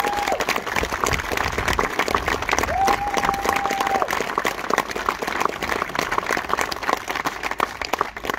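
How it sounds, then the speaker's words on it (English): An outdoor audience at a country fair event gives a sustained round of applause, dense clapping and some cheering continuing throughout with a brief whistle-like tone mid-way. "Let's have a round of applause."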